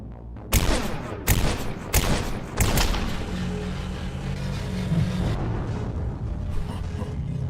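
Gunfire in the retro-inspired horror adventure game The Lacerator: four sharp, loud shots at roughly even intervals, then a sustained rumbling tail that fades slowly.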